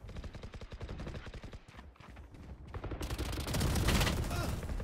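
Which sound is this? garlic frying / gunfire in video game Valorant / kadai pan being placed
gunfire in video game Valorant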